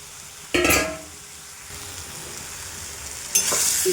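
Young jackfruit and potato are sautéed in a pan: a steady, close sizzle with two sharp bursts of scraping and stirring, one near the start and one near the end.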